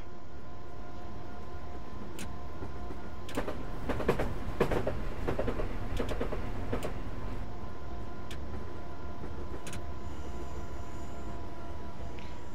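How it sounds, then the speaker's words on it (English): A diesel train in Train Simulator 2013 rumbles and shakes along the track, giving a steady low drone with a cluster of clattering rattles and knocks in the middle, heard from inside the cab. "I do like the effect of the train shaking"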